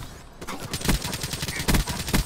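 Rapid bursts of gunfire on the Nuketown map in the video game Black Ops, several sharp shots in quick uneven succession, loud and close with a brief lull near the start.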